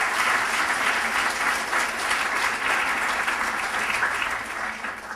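An audience at a green homes symposium applauding, with dense, sustained clapping that stays loud for several seconds and eases slightly toward the end.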